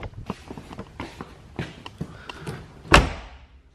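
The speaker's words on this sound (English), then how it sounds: "go slam some doors and see if it makes a difference" Several dull thumps and footsteps lead up to one loud, sharp car door slam near the end.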